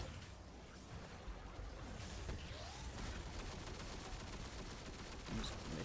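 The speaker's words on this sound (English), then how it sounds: "Use the machine gun." Machine gun fire in the video game Destiny 2, a dense, continuous crackling barrage of rapid shots mixed with game effects, heard faintly and steadily throughout.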